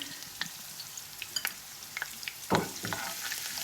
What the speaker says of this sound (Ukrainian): І хай воно смажиться.